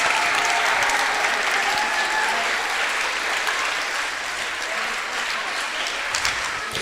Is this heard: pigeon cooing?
no